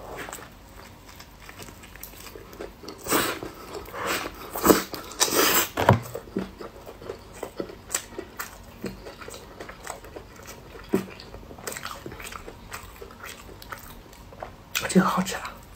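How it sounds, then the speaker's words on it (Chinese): Someone eats a square grilled chicken leg burger up close, with soft crunchy bites and wet chewing sounds in irregular bursts, mostly quiet between, no talking heard. "有一个叫长方形的，叫板烧鸡腿堡，这个我也是头一回吃"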